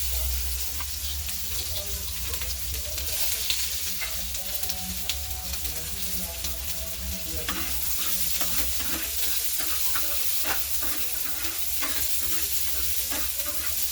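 Sliced onion sizzles steadily in a hot pan while being stirred, with frequent scraping clicks of the spoon over a continuous frying hiss, close and even throughout.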